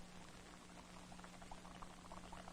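Water in a paper cup held over a candle flame boils with soft, faint bubbling and light crackle-like patter under a low steady hum, with no talk.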